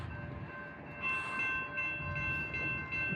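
A CSX train rumbles toward a crossing with the gates down in Plymouth, a steady low rolling drone with a faint tonal ringing on top, heard at a moderate distance.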